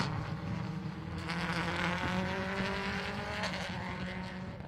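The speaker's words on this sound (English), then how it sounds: "Next car is car number 2, and that is of Paul Fowden and Jason Sugden in that S11 Subaru Impreza." Subaru Impreza S11 rally car passing on a rally stage, its engine loud and close, pitch shifting as it goes by, with a brief tire squeal or slide sound mixed in.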